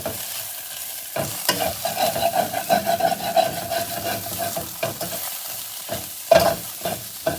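Rice and salt stirred in a pan for tindora (ivy gourd) fried rice: rhythmic scraping and rasping of a spoon across the pan over a soft frying sizzle, close and fairly loud, with no one speaking.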